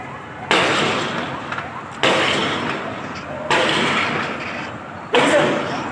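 Gunfire during the terrorist attack on the Pakistan Stock Exchange in Karachi, 2020: four sharp bursts spaced about 1.5 seconds apart, each decaying into an echoing outdoor rumble, heard from a distance.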